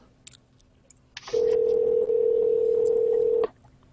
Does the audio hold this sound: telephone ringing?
yes